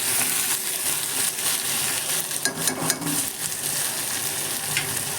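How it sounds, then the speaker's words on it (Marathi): Chopped vegetables for veg pulao frying in a pan on low heat, a continuous close sizzle with a spoon stirring and scraping through it, steady and fairly loud. "आपण जी पुलावसाठी भाजी करणार आहोत व्यवस्थित हलवून घ्यायची आहे"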